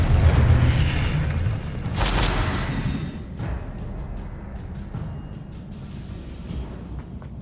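A Confringo blasting spell in the Hogwarts Legacy video game goes off as a loud, booming explosion with a sharp burst, then a rumbling tail that fades over several seconds.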